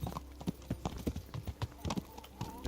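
Horse hooves clip-clop in the medieval game Kingdom Come: Deliverance, a quick, uneven string of close hoofbeats at a walking-to-trotting pace, with a faint murmur of background sound.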